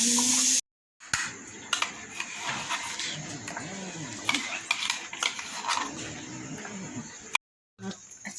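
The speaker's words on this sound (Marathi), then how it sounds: "आता ते गरम झाली आहे त्यात टाकले मी तेल तेलमध्ये आता तापले तर टाकली महुरी मस्तपैकी" Mustard seeds tossed into hot oil for tempering, sizzling and crackling with sharp scattered pops and a few utensil clinks, close, while a person talks over it.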